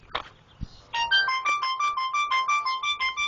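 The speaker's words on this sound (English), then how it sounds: "And my phone's ringing." A mobile phone ringtone plays loud and close as a repeating electronic melody after a couple of brief clicks.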